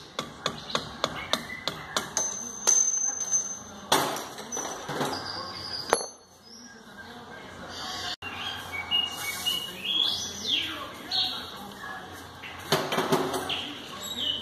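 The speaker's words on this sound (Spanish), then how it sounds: "Con ayuda de un desarmador le vamos a dar unos golpes." A screwdriver is struck repeatedly against a stuck front shock absorber spring on a Stratus, a quick run of sharp metallic taps followed by scattered knocks, with birds chirping nearby and a voice talking.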